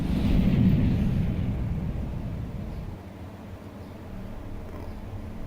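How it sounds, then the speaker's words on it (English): A missile launching in a naval combat video game: a loud, deep roaring rumble swells at the start, then eases into a steady lower rumble that carries on to the end, with no voices. "The missile's launched, but the crams are not firing."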